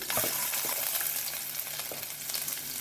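Dried red chillies sizzle and crackle in hot oil for a bottle gourd thoran, a steady close frying hiss with small pops throughout, no voices.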